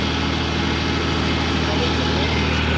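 A Massey Ferguson 9500 Smart series tractor drives a super seeder in a field, its diesel engine holding a steady, loud, continuous drone close by with the implement's rumble mixed in.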